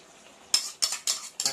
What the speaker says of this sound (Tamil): இந்த ஸ்டேஜில் தக்காளி கலந்துக்கணும்